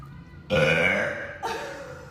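A young woman burps twice: a long, loud, croaky belch lasting nearly a second, followed after a brief pause by a shorter, weaker second burp, close to the microphone with no talk.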